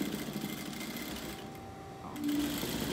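A sewing machine stitching a seam on a fabric bunny runs with a steady, close mechanical whir that briefly dips and then picks back up, with no voices.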